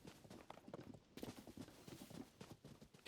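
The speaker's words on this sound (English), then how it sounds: "Can almost completely outrun the horse." Horse hooves clip-clop at a quick pace in Zelda: Tears of the Kingdom, a steady run of soft, fairly faint hoofbeats heard alone with no talk.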